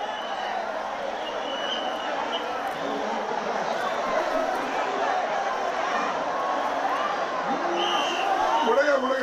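A dense crowd of devotees fills the Lalbaugcha Raja immersion procession in Mumbai, a steady roar of chatter and distant shouting from all sides with a faint cheer rising near the end.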